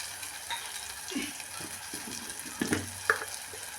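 Onions softened in a pan with turmeric and spices being added for an anchovy curry, giving a low frying sizzle broken by scraping stir strokes and a sharp clink near the end, without any voices.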